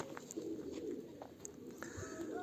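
A pigeon coos softly at a bird keeper's place, with a low repeated call beneath faint background noise and a few sharp chirps, fairly close and quiet.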